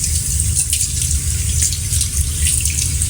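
Cold water from a tap gushes continuously over dogs being bathed at home, a loud, steady splashing rush with no talk over it.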